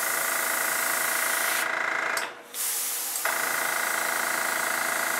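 Airbrush spraying acrylic paint in a steady, close hiss that runs nearly the whole time, broken by one short pause near the middle before the spray resumes.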